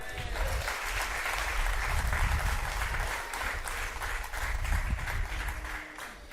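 A church conference congregation gives the Lord sustained, full applause that swells and stays dense, with voices and low rumbling mixed under the clapping.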